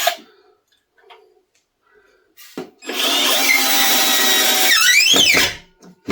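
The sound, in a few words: cheap 12V cordless drill driving 2-inch drywall screws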